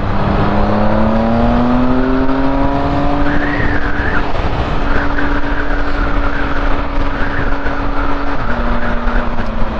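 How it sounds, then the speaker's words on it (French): Car engine accelerating hard in sixth gear on a motorway, a loud steady drone with rising and falling engine tones and road and wind noise throughout. "Allez, je suis en 6ème, j'accélère à fond."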